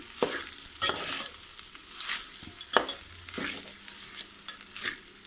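Lemon rice is stirred and mixed in a pan, with soft repeated scraping strokes of a spoon and a faint sizzle underneath, close and fairly quiet.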